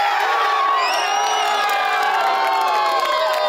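A crowd of residents in a Volgograd apartment complex cheers and shouts for the Russian football team during a match, a dense continuous roar of voices and whoops.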